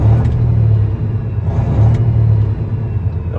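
A Peterbilt 389 glider daycab with a Detroit diesel engine revs smoothly, its deep loud rumble rising and easing in two broad swells over a steady low drone.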